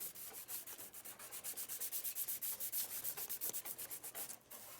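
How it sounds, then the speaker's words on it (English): Coarse sandpaper being rubbed over a clean, shiny plastic ship-model base: a rapid, regular run of close back-and-forth scratchy strokes, about six per second, with a brief pause near the end. "I'm going to rough it up with some really coarse sandpaper."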